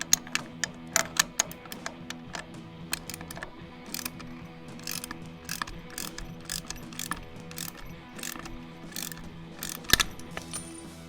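A ratchet wrench tightens the lug bolts on a vehicle wheel lowered to the ground, giving close, sharp clicks in quick irregular bursts with short gaps and a louder clank near the end.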